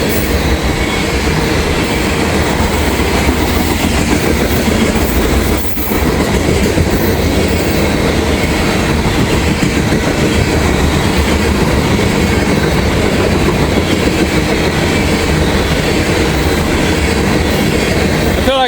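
A loaded ethanol freight train rolls past close by, a loud continuous rumble of wheels and cars with steady clickety-clack and faint wheel squeal, no voices heard.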